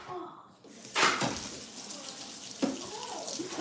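A grater being rinsed under a running kitchen tap, a close hiss of water that starts suddenly, surges, then rushes on steadily with light splashing.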